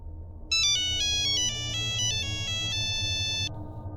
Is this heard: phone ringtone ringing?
yes